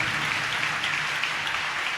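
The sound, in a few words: congregation clapping in praise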